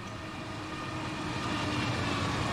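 A train hauling auto rack cars passes by in the Run8 Train Simulator V3 game, making a steady, broad rumbling roar that grows slightly louder and holds without a break, with no voices.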